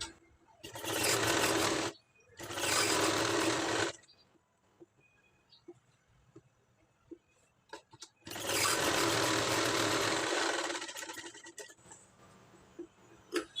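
A sewing machine stitches a blouse lining round the neckline in three runs, loud and rattling, each lasting about two seconds. Quiet pauses separate the runs, with faint handling clicks between them.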